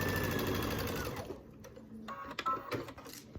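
Sewing machine stitching quilt pieces together, a fast, loud mechanical whirr for about a second and a half, followed by quieter clicks and handling sounds as it stops.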